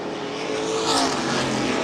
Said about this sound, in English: the leaders will have to work to the outside of Kuhnberger as again they slalom around the lap traffic